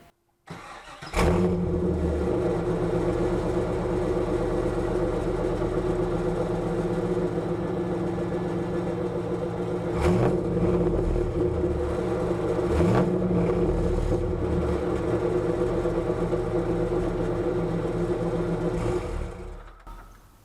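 A Pontiac Trans Am V8 with Texas Speed headers and Y-pipe cranks over and catches, then settles into a loud, steady, rumbling idle for nearly twenty seconds, with a few brief blips of revving partway through before it shuts off.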